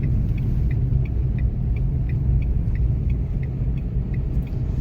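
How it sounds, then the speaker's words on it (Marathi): Interior rumble of a car creeping slowly along a road at about 20–30 km/h while a learner drives, a steady low engine drone with faint rhythmic ticking and no talk. "कावेरी गाडी चालवते हे बघा रस्त्याने"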